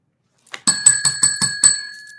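A bright metal bell rings in a quick series of about six sharp strikes, each leaving a clear sustained ring that fades after the last, loud and close with nothing else heard.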